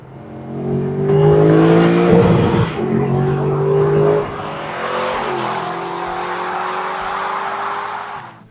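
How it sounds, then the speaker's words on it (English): A Mercedes SLS with a 6.3-litre naturally aspirated V8 revs loudly and close up, rising through sharp harmonic climbs, dropping back, then settling into a steady high rumble. "that soundtrack, that genuine V8, the exhaust draw, the induction"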